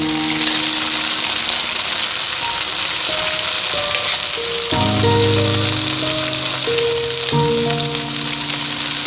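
Capsicum and carrots fry in a pan for peri peri rice, giving a continuous close sizzle and crackle with a few clinks and stirring sounds.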